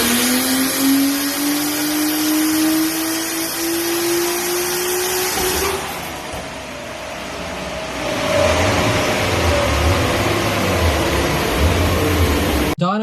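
A tuned car with a straight-through, muffler-free exhaust screams on a dyno, its loud engine note climbing steadily through the revs, dropping briefly around the midpoint, then rising again and holding a harsh roar to the end.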